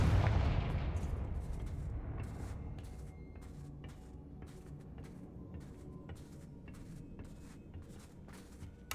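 A Confringo fire spell goes off in the Hogwarts Legacy game, opening with a loud low blast that rolls off and fades over several seconds. Faint scattered crackles and clicks follow.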